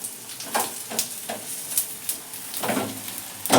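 An egg and vegetable flatbread made with flour fries in a little oil in a pan, a soft steady sizzle broken by occasional sharper crackles and spatula scrapes, close by and without talk.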